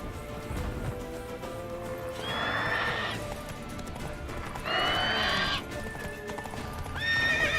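Roach, the horse in the video game The Witcher 3, gallops with steady clip-clopping hooves under a constant game background, punctuated by three loud, close neighs and whinnies.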